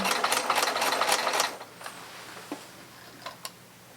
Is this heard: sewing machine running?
yes